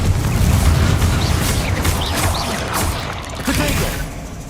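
A fire-blasting Confringo spell explodes in Hogwarts Legacy, producing a loud, continuous low rumble with layered booming bursts and whooshing debris that roll on for several seconds before easing slightly.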